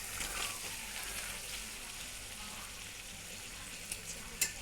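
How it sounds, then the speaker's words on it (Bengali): Dal puri frying one at a time in hot oil, a steady close broadband sizzle with a couple of brief sharper crackles near the end, no voices. "এইভাবেই আমি সবগুলো ভেজে নিচ্ছি"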